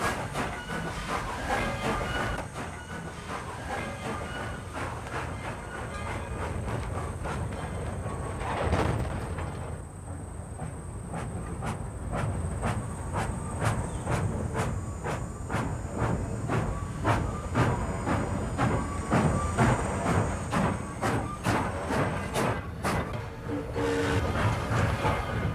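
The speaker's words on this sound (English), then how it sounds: "We see locomotive number 196 again, this time in an industrial area of Columbus." A Norfolk and Western steam locomotive, number 196, runs through an industrial area of Columbus in the late 1950s, a loud continuous rumble with hissing steam and rhythmic clickety-clack of wheels over rail joints, close and sustained throughout.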